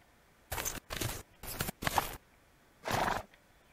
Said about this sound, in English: The sound effects for the horse can use some work